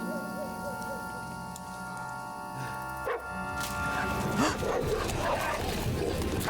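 A dog in the medieval role-playing game Kingdom Come Deliverance 2 gives a few faint barks and yips amid game ambience and music, with a voice talking softly underneath.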